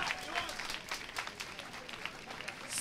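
A crowd at a rap battle event applauds with dense, continuous clapping and scattered cheers, with no speech over it.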